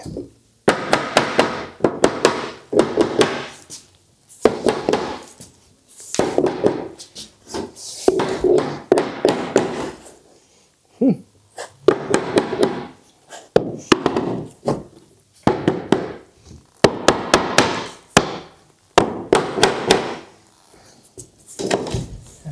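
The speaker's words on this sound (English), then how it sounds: "I guess sort of hammer it over the" A hammer strikes an 80-year-old wooden floor again and again in loud, close clusters of sharp knocks, separated by short pauses.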